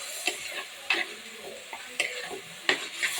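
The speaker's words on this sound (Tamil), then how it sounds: "தக்காளி நல்லா வதக்கி எடுத்துடலாங்க." Tomatoes for kadaisakkai curry sautéing in a pan, a spatula scraping and tapping in a loose rhythm of sharp strokes over a soft background sizzle, close up and without speech.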